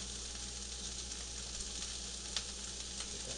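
Vegetables frying in olive oil in a pan give a steady, dense sizzle with faint crackles and a small pop, continuous and close with no talking.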